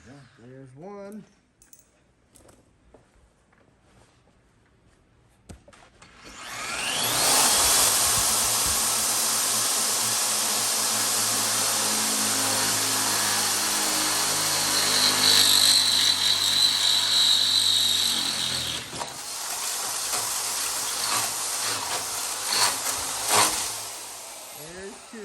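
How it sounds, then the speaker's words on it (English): Power drill boring a motor mount hole through a car subframe during a Firebird build, a steady loud whine lasting about twelve seconds after brief talk, tapering off with clattering handling noises. "drilling the fourth motor mount hole that is on the subframe"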